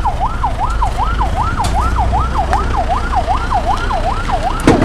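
A wailing ambulance siren rises and falls in a steady, repeating cycle over low road rumble, loud and close throughout.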